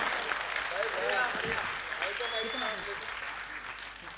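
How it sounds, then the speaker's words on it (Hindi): Audience applause at a national poetry gathering for Kargil Victory Day, steady clapping heard under a voice speaking over it. "जरा तालियों के साथ बता दीजिए"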